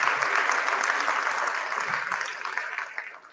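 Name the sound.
audience applause for the Durham Divas cheerleaders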